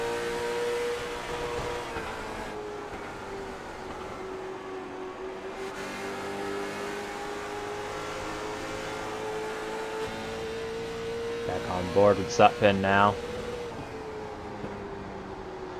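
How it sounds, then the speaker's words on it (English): Short-track race car engine held at a steady, sustained drone as the driver pushes hard into the corners, with a louder burst of revving pulses near the end and a commentator's voice over it. "He is really pushing that car, driving the thing in deep, heading down into the corners."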